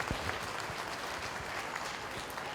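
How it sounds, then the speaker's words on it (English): Ringside spectators at a 4-H and FFA market goat show at the Lawrence County Fair in Ohio give a short, steady round of applause, a dense patter of many hands heard from within the crowd. "could you please give everybody that's out here and even exhibitors to a nice round of applause?"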